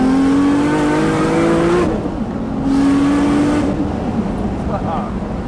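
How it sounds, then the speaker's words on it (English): A Nissan Skyline R34 GTR street build, about 600 bhp and running straight E85, revs hard in two loud bursts with a brief lull between, a rough engine roar that is close and intense, the tires spinning. "That definitely lit up all the tires."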